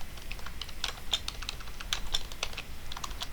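Fingers type on a computer keyboard while SQL is entered, giving a quick, uneven run of close, crisp key clicks over about three seconds with no talking.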